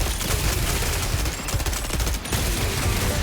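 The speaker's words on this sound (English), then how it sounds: "Goddamn rockets!" Rockets fire in a frantic first-person hero shooter, a dense, loud barrage of blasts and explosions packed tightly together with no pause, heavy low rumble throughout.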